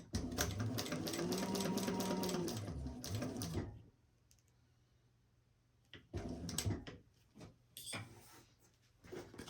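An industrial sewing machine with slightly tight tension stitches a zip pouch seam, running steadily and loud for about four seconds, pausing, then resuming in short choppy bursts with clicks, close by and alone.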